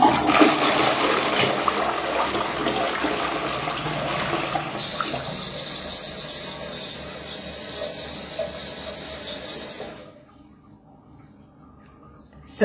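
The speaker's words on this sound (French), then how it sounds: "on vient tirer la chasse" A toilet flushes with a loud rushing surge of water that settles into a steady hiss of refilling, then cuts off into near silence.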